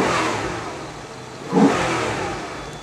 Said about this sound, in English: That air intake just sounds beautiful.